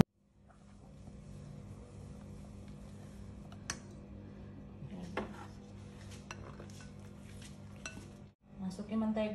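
Batter for a rolled layer cake, made with sweetened condensed milk and butter, being stirred in a bowl: quiet scraping with occasional sharp clinks of a utensil against the bowl.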